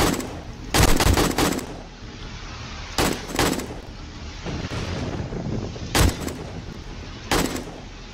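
Automatic gunfire during horde night in the video game 7 Days to Die, loud rapid bursts separated by pauses over a continuous rumbling, windy game background.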